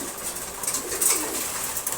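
Pigeons coo softly at feeding time, a low steady murmur of several birds close by with a faint wing flutter, no voices over it.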